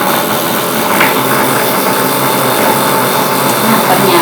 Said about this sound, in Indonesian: putaran dari motornya itu semakin kencang, lebih kencang daripada kalau hanya menggunakan 1 atau 2 buah baterai